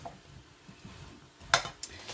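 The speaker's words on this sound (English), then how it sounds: "we're just going to stir this in." A utensil stirs curry paste into squash stew in a pot, giving soft scraping and a few sharp clinks of metal against the pot, close and quiet.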